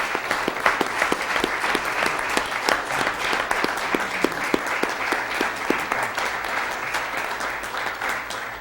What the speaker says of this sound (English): Let's give another round of applause to everyone behind the scenes in the city who played a large part in making this forum possible